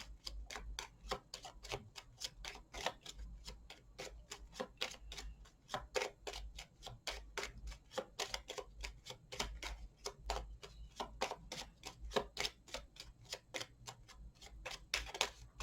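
Tarot cards being shuffled and cut make a long run of crisp, rapid clicks and light flutters, close by and fairly quiet, with no voices over them.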